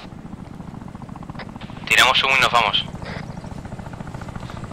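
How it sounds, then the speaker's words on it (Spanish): Helicopter in the combat game Arma 3 in fog, a rotor whine swelling for about a second over steady low engine rumble, with players talking over it. "Helicóptero."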